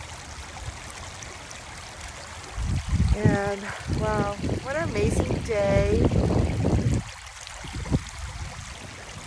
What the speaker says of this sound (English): Here's the sound of nature speaking through the waters.